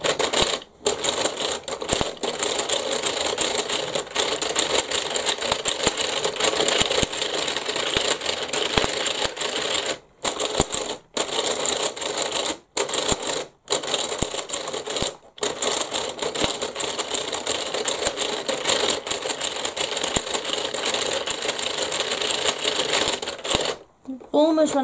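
A Kumi Kreator braiding machine runs steadily, winding thread off a nearly empty bobbin, giving a dense rapid clatter with a few brief pauses, close and loud.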